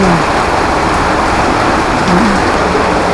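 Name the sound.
heavy rain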